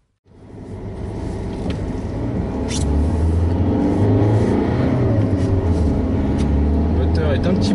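Fiat 500L 1.3-litre MultiJet 85 hp diesel pulling under load on an Italian road, a steady, growing engine drone heard from inside the cabin after a sudden start, with occasional faint knocks and a voice talking over it.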